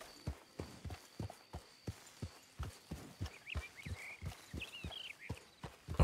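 Hooves clip-clop in a steady trot as a horse is ridden through a town in the video game Red Dead Redemption, with regular evenly spaced hoof strikes up close and faint ambient town sounds behind them.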